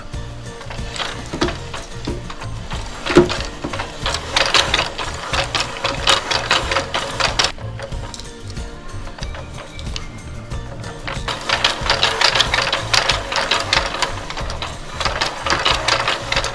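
FRAICH'CUT sausage portioning machine chopping sausages into equal lengths, a rapid, rhythmic mechanical clatter heard close in repeated bursts with short pauses, no voices.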